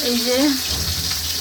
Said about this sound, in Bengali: মাছগুলা ভেজে নিয়েছি, এই যে বাকিগুলা ভাজা হচ্ছে